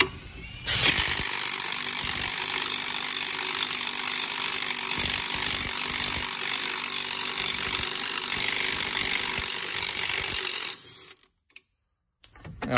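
A mid-torque cordless impact wrench runs in one long continuous burst on a 34 mm axle nut of an Acadia rear hub, loud and close with a harsh, buzzy hammering rattle, then stops abruptly into near silence.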